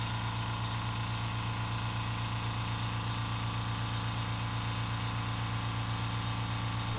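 A Fortress ultra quiet air compressor runs steadily as it refills its tank, a constant low, even motor hum with no breaks, moderately loud and close throughout.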